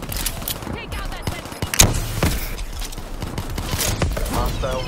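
Hostile sentry gunfire in a Call of Duty Black Ops III match: scattered bursts of shots crack at mid distance, one sharper blast standing out, amid busy battlefield clatter and footsteps.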